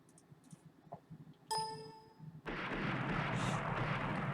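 Naval gunfire in the Rule the Waves video game: a sharp ringing metallic impact, then a heavy booming blast that rolls into sustained loud rumble, preceded by quieter scattered clicks and thuds.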